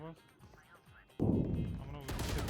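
Gunfire in the video game Valorant, a burst of sharp shots breaking out midway and continuing, with voices talking over the game audio before and during the firing.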